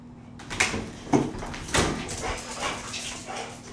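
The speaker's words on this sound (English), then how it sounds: "Those are my dogs in the background." Dogs bark and yip off in the background of a home, several short barks spread over a few seconds with some soft whimpering, fairly muffled.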